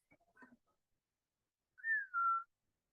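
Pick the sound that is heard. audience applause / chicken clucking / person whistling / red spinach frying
person whistling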